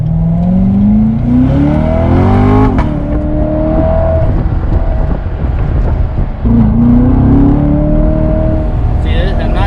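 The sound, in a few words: 2017 Chevrolet C7 Corvette Grand Sport driving and accelerating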